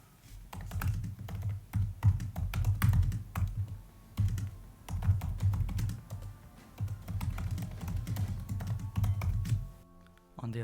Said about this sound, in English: Let's now hear the keyboard for the MacBook Pro 13-inch.